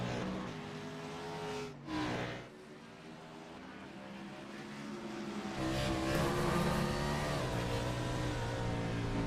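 Race cars roar around Watkins Glen in an Xfinity Series racing video game, a steady dense engine drone with a brief dip and rising revs as cars accelerate out of a corner, loud and continuous throughout.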